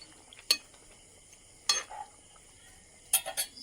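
Fried tomato and fish go into a cooking pan and get stirred: three separate bright metallic scrapes and clinks of a utensil against the pan, spaced apart, close and fairly quiet, with no talking.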